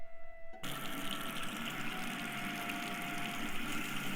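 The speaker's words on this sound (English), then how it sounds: "Next thing I heard was water running in the bathroom" Water runs steadily from a tap into a bathroom sink, a constant hissing rush that begins abruptly after a brief quiet moment and continues unbroken at moderate level.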